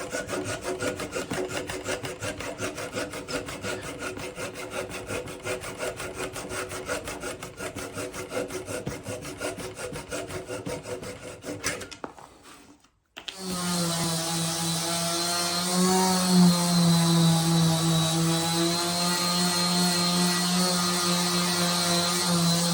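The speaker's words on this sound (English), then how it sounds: "So the plugs are smoothed off and sanded." Wooden plugs are sanded smooth during a narrowboat fit-out, first with a steady buzzing sander and then, after a brief pause, with a louder humming power tool running close and continuous.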